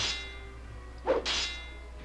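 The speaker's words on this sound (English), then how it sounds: "I was wondering if you could hit that bell" A bell in the video game Maximo: Ghosts to Glory is struck once, giving a single short metallic clang with a bright ringing tail over quiet game ambience.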